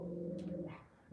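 A dog whimpers in a short high whine, heard close over a steady low hum of a football match broadcast in the background.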